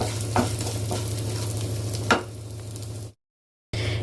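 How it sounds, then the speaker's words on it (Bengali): Spices with asafoetida stirred in hot oil in a pan, a steady close sizzle with a couple of sharp scraping strokes, cutting out briefly near the end before resuming. "দিয়ে এইগুলোকে আমি একটুখানি নাড়াচাড়া করে নেব"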